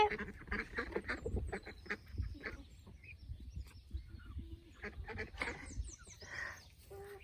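Ancona ducks on a pond quack and honk in a series of loud, irregular calls, some overlapping, with quieter gaps between bursts and no clear voices.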